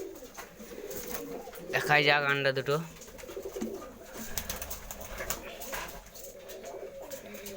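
Domestic pigeon cooing in a village loft, a short throaty burst near the middle, close by, with someone talking over it before and after.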